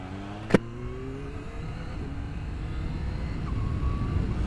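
Kawasaki H2 SX SE motorcycle accelerates, engine note rising through gears under steady wind roar heard from the rider's position, with a sharp click early on.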